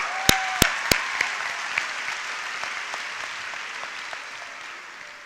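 A graduation ceremony audience at a high school commencement claps steadily, a dense wash of applause that slowly fades, with a few sharp percussive clicks near the start.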